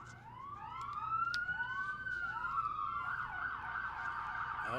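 Elkins Police Department police cars leading the Mountain State Forest Festival Grand Feature Parade, their sirens wailing in rising and falling sweeps, overlapping, heard at moderate distance over outdoor crowd ambience.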